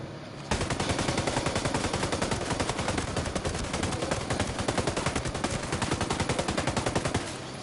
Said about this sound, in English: Oh, that gun was lethal.